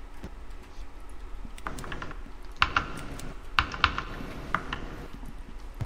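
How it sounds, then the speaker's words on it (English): Clicking keys of a computer keyboard during an online horror game session, heard as a run of close, crisp taps with a few sharper louder strikes scattered over a low background hum. "I can hear every singular click of your fucking keyboard, bro."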